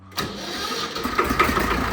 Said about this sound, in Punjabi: ਟਰੈਕਟਰ ਦੀ ਆਵਾਜ਼ ਸੁਣਾਈਏ ਆਪਾਂ